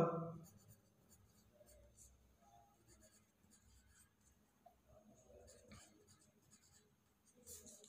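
A pen writes and underlines by hand on an engineering drawing sheet, producing faint scratchy strokes in short bursts, close but quiet, with occasional soft speech in the background.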